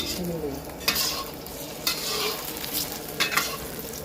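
Stirring and frying in a pot of snakehead fish tom yum with rice paddy herb over raised heat, a steady sizzle under sharp scraping stir strokes at irregular intervals, close and fairly loud, no talk.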